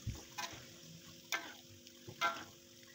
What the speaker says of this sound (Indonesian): kalian bisa menggoreng kacangnya sampai semua habis